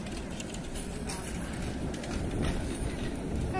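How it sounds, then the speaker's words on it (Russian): A tram rumbles through a city intersection in the evening, its low roar swelling louder toward the end over general street noise, while someone speaks nearby. "Ага, и трамвай."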